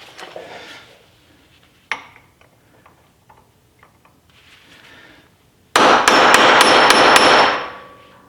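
A hammer drives a punch into a Ferrari wheel bearing nut, giving a sharp metallic strike, a few light taps, then a loud ringing cluster of rapid blows close by.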